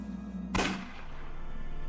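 A single sharp gunshot in the video game Unavowed, a sudden crack over a low background hum, followed by a brief decaying tail.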